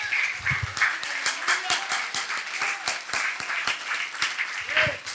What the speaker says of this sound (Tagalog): Minsan pang malakas na palakpak sa ating Panginoon.